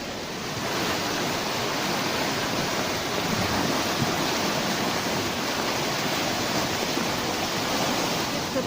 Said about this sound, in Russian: за площадкой протекает речка, и она полная почти вся